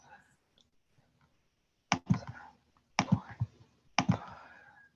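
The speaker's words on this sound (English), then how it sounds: "I'll start typing that in." Clicks from a few quick presses on a calculator or computer keyboard while entering a geometry calculation, arriving in three short bursts about a second apart, fairly close, with a voice speaking faintly around them.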